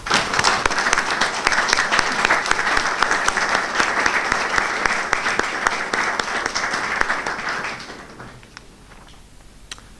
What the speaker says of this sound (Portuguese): manifestando o nosso agradecimento e reconhecimento com uma grande salva